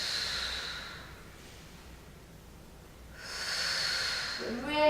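Slow, audible exhalations during a seated breathing exercise, two long airy breaths close to the microphone with a quiet gap between, the second ending as a voice starts.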